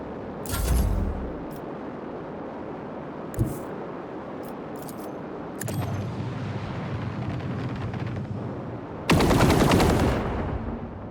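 Interceptor craft strafing in the space combat of Warhammer 40K Rogue Trader, with sporadic sharp blasts, a sustained rumbling stretch of gunfire and a loud roaring burst near the end.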